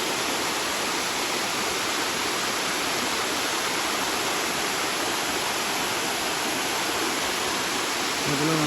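Panasa waterfall near Madanapalli heard as a steady, loud, broadband roar of falling water that runs unbroken throughout, with no talk.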